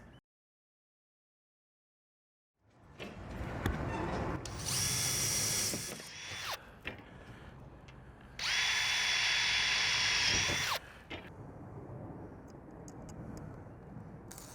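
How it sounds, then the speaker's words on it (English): A power drill whines in two long, loud bursts, pre-drilling holes through metal siding panels, close up, with rattling and handling noise between and after. "I'm gonna pre-drill my holes to make it easier to hang my starter panel"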